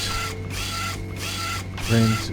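A printer in The Nameless Mod whirs and clicks with a repetitive mechanical cycle, pulsing several times and ending in a louder grinding hum, with a voice speaking over it.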